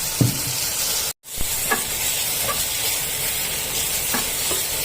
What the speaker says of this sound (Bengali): এই সময় আমি সেদ্ধ করা ডাঁটাগুলো দিয়ে দিলাম।